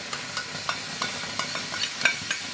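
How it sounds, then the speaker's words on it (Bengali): Spice mix being stirred into half-fried potatoes and vegetables in a pan for a vegetarian curry, with repeated scraping clicks of the spoon over a soft steady sizzle, close and alone. "এই অবস্থায় আমি এতে মশলাটা মিশিয়ে দিলাম"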